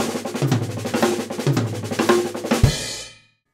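A fast drum chop of sextuplet figures moved around the full drum kit, a dense run of toms and cymbals played steadily for about three seconds, loud and close, ending with a final hit and ring-out, no talking.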